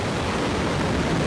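The Relativity Terran 1 rocket lifts off in a loud, dense, unbroken roar that holds steady the whole time.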